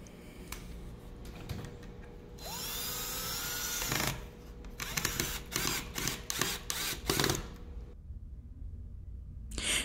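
Power drill driving screws into a wooden planter box, with a sustained whine of several seconds followed by short bursts of drilling, loud and close.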